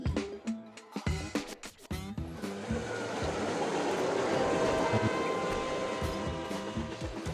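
Video game trains loop around their tracks, a steady rumbling roll with clickety wheel rhythm that swells and holds after a few sharp clanks at the start.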